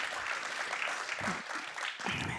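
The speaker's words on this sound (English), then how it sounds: "You can clap for him." Applause from a church congregation, a steady wash of clapping that holds at moderate loudness for a couple of seconds.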